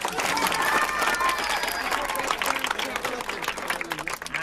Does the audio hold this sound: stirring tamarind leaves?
no